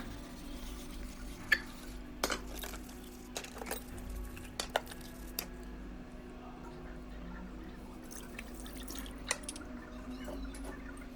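Quiet kitchen sink sounds: water trickling with scattered clinks and taps of dishes, a low hum underneath, no talking.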